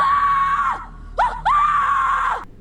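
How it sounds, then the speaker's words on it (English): A blood-curdling scream rings out loud and shrill, breaks off, then after a short gasp returns as a second long, sustained shriek that trails down at the end. "we heard a blood-curdling scream?"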